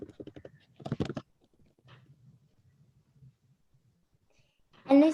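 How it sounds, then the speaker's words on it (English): Someone types a password on a computer keyboard: a few quiet, scattered key taps in a still room, with a brief voice near the end. "We can type in the password."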